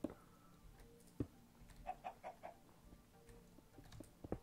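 Minecraft chickens clucking in short, soft bursts, a few scattered clucks and one brief cluster, fairly quiet over a low background hum.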